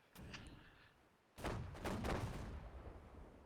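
Cannon fire in a naval battle video game, a Marines fleet ship being sunk: a quiet stretch with faint thumps, then a loud burst of overlapping booming blasts that rumble on and slowly fade.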